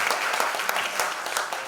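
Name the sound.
audience applause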